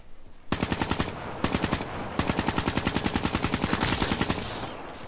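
Rapid bursts of automatic gunfire from hip-fire in the video game Black Ops 3, loud and close, with short pauses between volleys and a longer sustained string of shots at the end.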